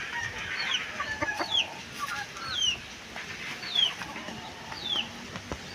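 Chickens and growing chicks cluck and peep close by on a small farm, with repeated short chirps and soft clucks over a steady outdoor background and no talk.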